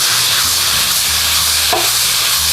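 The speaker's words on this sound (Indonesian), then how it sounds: "Kita tumis sampai airnya menyusut." Beef sautéing in spice paste in a pan for Bangka-style lontong sayur, a steady close sizzle and hiss with occasional stirring scrapes, moisture cooking off, no talking.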